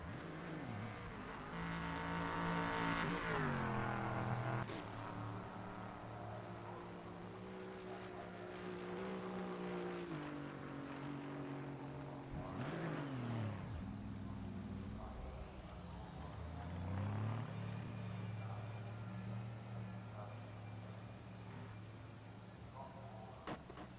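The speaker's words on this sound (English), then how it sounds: "Many cars out on the circuit at the moment." Race cars lap the Sepang circuit during a warm-up session, engine notes rising and falling steadily as several cars pass, heard from a distance under a continuous hiss, with faint voices in the background.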